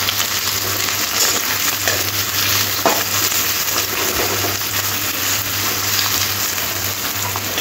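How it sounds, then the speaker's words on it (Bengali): Onions fry in oil with cloves and cardamom, a steady close sizzle with occasional scraping stirs and clinks, no voices. "পেঁয়াজটা একটু হালকা করে ভেজে নেব।"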